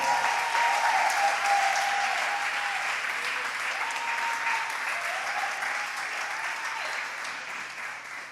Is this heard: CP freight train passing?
no